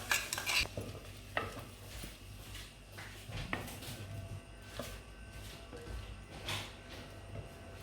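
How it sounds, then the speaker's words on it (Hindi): Chicken and chickpeas are stir-fried with spices in a pot, a ladle scraping and clinking against the metal in irregular strokes over a soft sizzle, close and fairly quiet. "इसको भी 5 मिनट के लिए भून लेंगे।"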